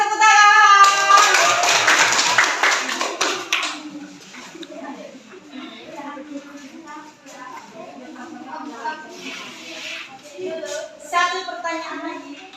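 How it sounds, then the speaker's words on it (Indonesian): A class of children claps for a classmate in a school lesson, a burst of rapid clapping at the start that fades out, followed by chatter and a teacher's voice. "Iya, kasih tepuk tangan."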